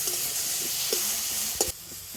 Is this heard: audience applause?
no